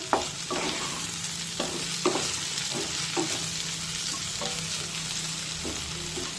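Okra coated in spiced besan masala fries in a kadhai while a spoon stirs it, producing several distinct scraping knocks over a constant close sizzle.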